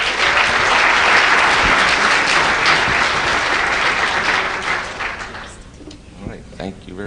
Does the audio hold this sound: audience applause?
yes